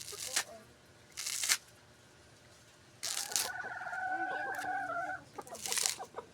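Chickens clucking in a Filipino backyard coop, short bursts with a run of sustained calls near the middle and quicker clucks toward the end, fairly close, with brief noise gaps between.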